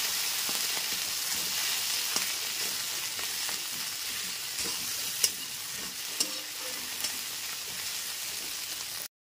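Ginger paste fries in a pan over a low gas flame, giving a steady, soft sizzle with occasional sharp clicks and scrapes of stirring throughout.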